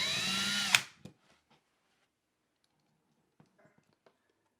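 A power drill driving screws through a surface mount accessory for WiFi equipment, with a short loud whir that cuts off abruptly, followed by a few faint clicks.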